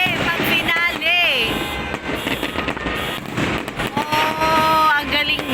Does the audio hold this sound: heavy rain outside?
no